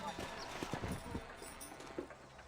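Horse hooves clip-clop in the Western video game Red Dead Redemption, a quick irregular trot of fairly faint steps with a snort, under game music and speech from a live gameplay session.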